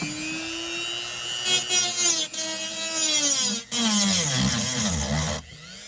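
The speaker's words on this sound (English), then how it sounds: "I'm just gonna grind these flat" A power tool grinds steadily against metal Corvette battery hold-down parts, flattening them, for several seconds, its pitch wavering and rising in harsh, bright bursts, with brief dips between passes.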